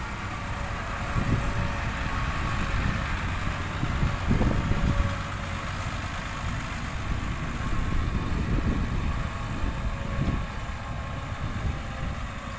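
Tractor engine idling while spreading manure on a sugarcane field, a steady mid-pitched rumble with brief louder surges, close and alone with no talking.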